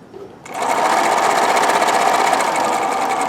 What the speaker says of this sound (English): Anyway, I shall continue stitching